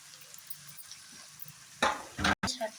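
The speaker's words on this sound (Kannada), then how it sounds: "ಎಲ್ಲ ಹಾಕ್ಕೊಂಡು ಸ್ವಲ್ಪ ಚೆನ್ನಾಗಿ ಫ್ರೈ ಮಾಡೋಣ" Sliced capsicum, carrot, cabbage and green chillies are stir-fried in a pan for egg rice: faint background hiss, then a few loud, close scraping bursts of a spatula tossing the vegetables near the end.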